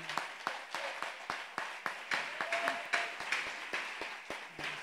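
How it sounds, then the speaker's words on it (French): A church congregation applauds the Lord with rhythmic clapping, a steady run of sharp, moderately faint claps. "On acclame le Seigneur."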